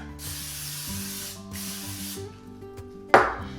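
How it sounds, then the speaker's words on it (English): An aerosol cooking spray hisses onto parchment paper in two long bursts and then one short spritz, close by, over a faint steady hum. "And then you want to spray again the parchment paper."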